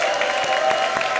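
Applause from a comedy show audience, a short burst of dense clapping throughout, steady and fairly loud.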